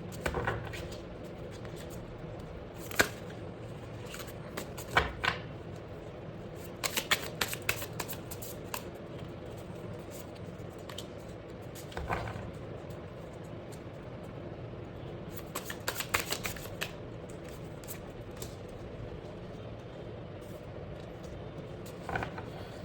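Tarot cards shuffled repeatedly for a reading, with soft continuous riffling and several sharper bursts of snapping cards, fairly close and alone with no voices.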